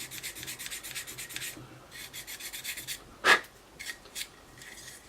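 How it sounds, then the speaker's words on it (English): Plastic is sanded by hand inside the intake of a Tamiya 1/32 F-16 model kit, making soft rhythmic rasping strokes in short bursts with pauses and one sharper scrape, close and quiet, with no talking. "Rubbing it away."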